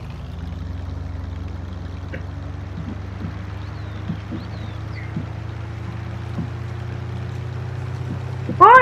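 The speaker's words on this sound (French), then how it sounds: "Oh, la cascade." Waterfall in the Farming Simulator 19 game world, a steady, continuous rushing of water at an even level throughout, with a faint low hum beneath and a short louder burst at the very end, no talking.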